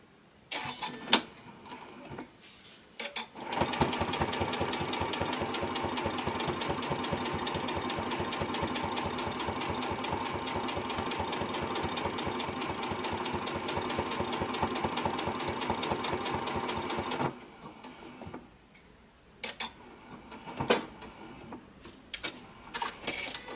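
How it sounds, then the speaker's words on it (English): A sewing machine with a twin needle stitching a stained glass quilt wall hanging, running in one steady, rapid mechanical whir for about fourteen seconds, flanked by short clicks and handling noises before and after. "I need to sew this one"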